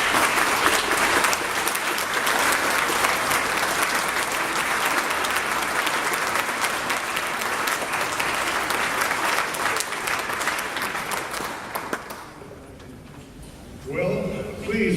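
Sustained applause from an audience welcoming a chief as keynote speaker at a Veterans Day ceremony, loud and steady for about twelve seconds before fading, followed by a voice beginning to speak.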